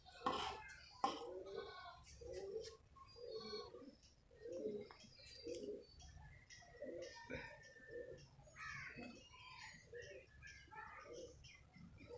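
A thin pigeon with a protruding breastbone, unable to fly, coos over and over in a steady rhythmic series of soft, low calls, fairly faint and close, with light background noise.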